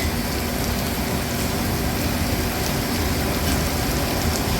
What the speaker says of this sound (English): you guys could enjoy the beautiful rain while I get wet